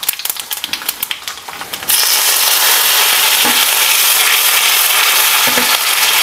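Mustard seeds, dried chillies, cumin and vadagam tempering in hot oil: a burst of crackling pops and rattling at first, then a loud, steady sizzle that continues to the end without talk.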